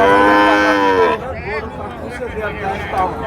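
Close and loud, a Sahiwal calf at a cattle market in Joypurhat lets out a long, harmonic-rich moo lasting about a second, followed by market chatter and a crowd.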